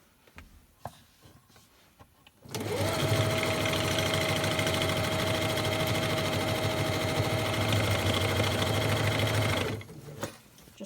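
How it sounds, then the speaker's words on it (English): A sewing machine stitches around the edge of a lunch bag in one long, loud, steady run of rapid needle chatter, starting and stopping abruptly amid quiet handling. "you're going to sew all the way around the edge and come back to this one"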